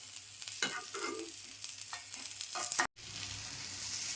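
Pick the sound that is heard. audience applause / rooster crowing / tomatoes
tomatoes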